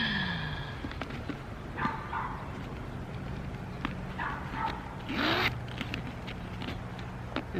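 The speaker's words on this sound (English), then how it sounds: "The dog you hear barking" A tiny dog yaps in short, sharp barks at a few scattered moments, fairly close, alongside the rasp of a clothing zipper and faint rustling.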